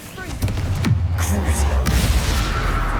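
A Confringo fire-blast spell explodes in the video game Hogwarts Legacy, a dull booming blast with a low rumbling tail lingering for a few seconds, loud and close, with faint voices underneath.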